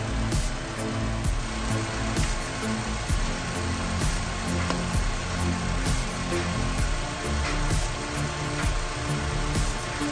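Honda Civic engine idling steadily while warming up during a radiator coolant flush, a continuous low rumble with faint ticking, close and without talk.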